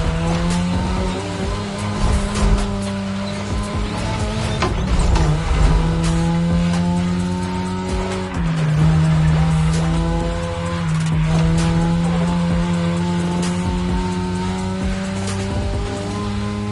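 A racing car in a video game, touge-style mountain driving, with a loud engine holding steady tones that shift with gear changes and rev swells, plus repeated tire squeal through corners, continuous and close with no talking.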